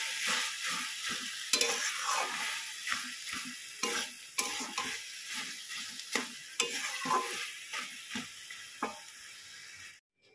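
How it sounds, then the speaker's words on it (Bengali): Soft paneer frying in a pan with a pinch of salt, a steady close sizzle broken by frequent scrapes and taps of a spatula stirring, ending abruptly near the close. "পনিরটাকে হালকা করে ভেজে নেবো আগে।"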